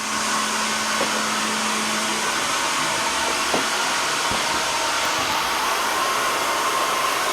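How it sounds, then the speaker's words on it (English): A Jisiwei I3 robotic vacuum at max suction gives off a loud, constant whooshing whine with a faint tonal hum, unbroken and close, with a few small clicks of movement and no voices. "when I press this max, it increases the suction It's really loud. It gets really loud."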